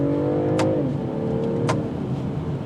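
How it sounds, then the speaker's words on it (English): A 2021 BMW M340 engine pulls steadily under throttle, its rising drone climbing then settling, with a couple of brief sharp ticks over the continuous road rumble. "giving it some throttle."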